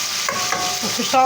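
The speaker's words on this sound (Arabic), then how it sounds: "وهنا هنقلي السمك عقبال ما يحمر البصل" Fish fries in hot oil with onions, giving a steady close sizzle with soft stirring scrapes and a few brief clinks of a utensil against the pan.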